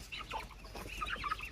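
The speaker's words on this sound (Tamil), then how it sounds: "இந்த கிண்ணி கோழி அதுங்கெல்லாம் என்ன பண்ணுறதுன்னு தெரியல." Guinea fowl and chickens cluck and chatter together in a steady, busy farmyard murmur, several birds calling at once at moderate distance with no voices.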